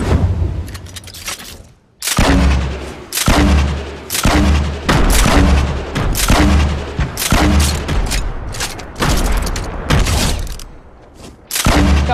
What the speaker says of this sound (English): And then launched both of my grenades down there